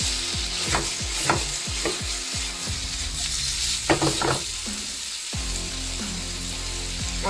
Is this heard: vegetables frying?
yes